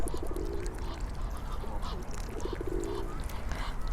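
Canada geese honking on a lake, two bursts of rapid nasal calls a couple of seconds apart over steady outdoor background noise.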